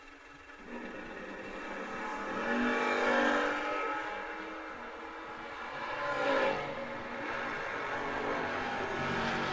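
Drag race cars launch side by side down a racetrack at a memorial race event, their engines swelling into a loud roar, easing off and surging again as they speed away.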